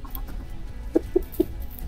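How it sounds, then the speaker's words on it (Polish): A few short clucks from a hen, three quick sharp notes close by over a quiet outdoor background. "te kury tutaj nie dają mi spokoju"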